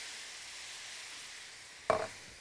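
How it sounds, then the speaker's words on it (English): Food with fish sauce and coconut milk in a hot pot gives off a steady soft sizzle and hiss, broken near the end by one short, louder splash or stir. "can you hear the sizzling sound?"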